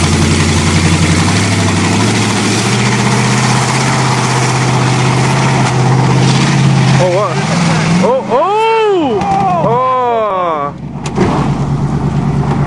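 A 1984 Ford Crown Victoria engine runs loud and steady at a rough idle outdoors at a farm jump site, with voices talking over the rumble near the end.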